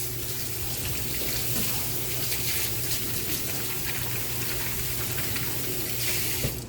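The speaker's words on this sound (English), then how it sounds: "Let me just wash my hands real quick." Hands are washed under a running kitchen tap, with water pouring steadily and splashing for several seconds. The water is close and even, and a few louder splashes come near the end.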